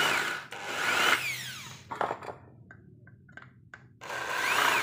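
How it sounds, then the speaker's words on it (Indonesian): A power drill bores into wood to enlarge a bolt hole. It whines up in loud bursts, with the pitch sweeping as it loads and unloads, and stops briefly between passes with short clicks and rubbing. "Setelah dilubang kita akan prostek ya, lubangnya kita perbesar."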